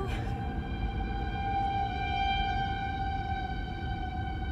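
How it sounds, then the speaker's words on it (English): A distant tornado siren holding a steady, droning tone throughout, over a low rumble of background noise. "I drove right by the tornado sirens"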